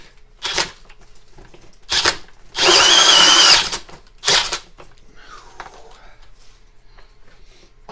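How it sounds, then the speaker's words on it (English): A Milwaukee M12 Fuel hammer drill with a 4 1/8 inch hole saw bites into a 2x4 in short loud bursts, one longer whirring cut in the middle, with quiet pauses and faint handling noise between. "that's about all the Milwaukee's gonna do with a 4 1/8 inch hole saw. About halfway through the 2x4"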